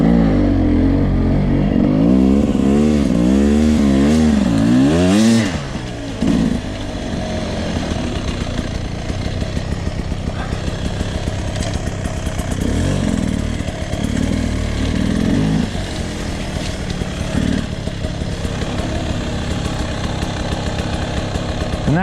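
A 2020 Beta 300RR Race Edition two-stroke dirt bike engine buzzes and revs during a riding test, with sharp throttle blips early, then a chopping, uneven idle and bursts of throttle, close and loud, with no speech.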